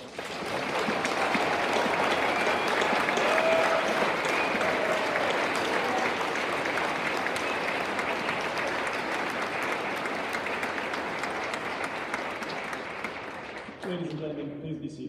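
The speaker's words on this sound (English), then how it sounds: "Round of applause, everyone." Sustained applause from a large audience at a Navy officer candidate graduation ceremony, steady dense clapping filling the hall for many seconds before tapering off as a voice begins speaking.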